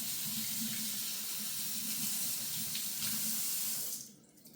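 Steady rush of running tap water splashing into a sink for several seconds as food is washed, then the flow cuts off abruptly.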